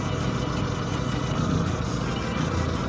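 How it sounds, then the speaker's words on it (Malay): A car engine idles with the ignition to cylinder 4 disconnected, a steady low mechanical hum with a slightly uneven, lumpy pulse from the misfire, running continuously at close range. "Jadi kita tanggalkan yang terakhir, nombor 4. Kita lihat enjin mati ke tak mati."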